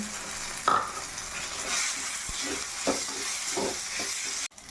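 Spices and green peas stirred in a frying pan while making malai matar paneer, with steady close sizzling and a few soft scraping strokes of a spoon, no talk.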